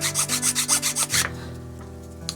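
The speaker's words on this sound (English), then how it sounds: "just a little filing does the trick" A small file evens out the cut face of a piece for a model station building, giving about eight steady back-and-forth rasping strokes up close, then quieter room tone with a single light click near the end.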